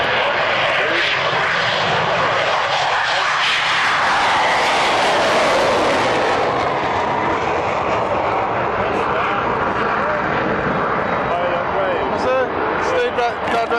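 An F-16 jet takes off on a wet runway at the 1998 Woodford Airshow with a loud, continuous roar that swells and shifts in pitch as it passes, while a commentator talks over it.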